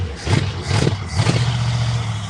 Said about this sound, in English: That car is like 1950, 40 something, and it's still running